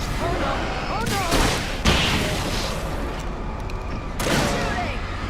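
Gunfire in Alan Wake Remastered comes as a few sharp shots among layered game effects, with a voice speaking excitedly over the action.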